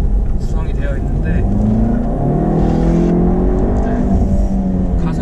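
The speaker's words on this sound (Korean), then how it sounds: "가솔린 엔진으로서 엔진의 회전을 충분히 사용을 하면서 엔진 회전수가 올라간 상태에서" A Jaguar E-Pace gasoline engine revs hard as the SUV accelerates uphill, a loud steady drone rising in pitch throughout, with someone talking over it.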